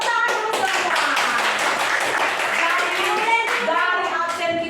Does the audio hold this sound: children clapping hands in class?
yes